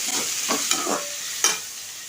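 Dried red chillies sizzle in hot oil for chutney while a spoon scrapes and stirs them in the pan, a few sharp clinks rising over a steady close frying hiss, no voices.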